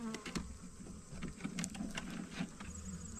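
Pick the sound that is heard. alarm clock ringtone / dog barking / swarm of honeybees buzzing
swarm of honeybees buzzing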